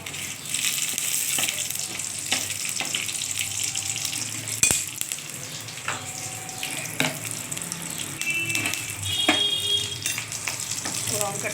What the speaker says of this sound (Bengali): এরপর আমি তেল দিয়ে দিয়েছি, তো এরপর দিয়ে দিচ্ছি তেজপাতা, শুকনো এই কাঁচা লঙ্কা আর কালো জিরেটা ফোড়নের জন্য